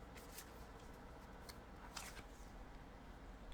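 Tarot cards are shuffled and drawn close by, soft papery riffles and slides with a few crisp flicks, quiet over a low steady background hum.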